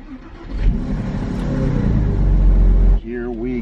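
A cheap, problem-ridden Porsche Boxster pulling away at night, its engine rising in a steady, loud, close rumble as it accelerates. A voice cuts in briefly at the end.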